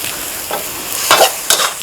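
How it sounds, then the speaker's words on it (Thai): Glass noodles stir-fried with chicken and holy basil in a hot pan, a steady sizzle with scraping stirring strokes swelling in two louder bursts near the end, close and with no talk. "จากนั้นก็ผัดครับ แล้วก็ใส่นะครับเป็นเส้นลงไปครับ"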